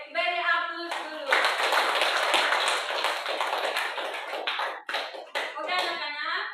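Students in a classroom clap together in a dense, sustained burst of applause lasting several seconds, with a teacher's voice speaking just before and after.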